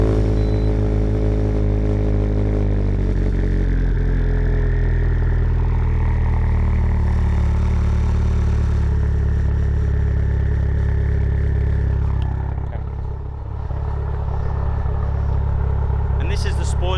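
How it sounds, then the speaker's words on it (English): A turbocharged Mitsubishi Lancer Evolution idles with a lumpy, uneven rhythm, a loud close, steady low rumble throughout, with a brief dip near the end. "The idle's pretty lumpy. It sounds quite gnarly."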